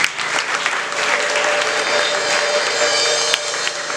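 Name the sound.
applause for a missionary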